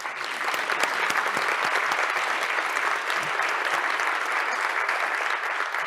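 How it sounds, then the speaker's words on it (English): Audience applause at an impact summit's official opening, a steady, dense wash of clapping from a large crowd lasting about six seconds, with no voices over it. "Big applause to them as well."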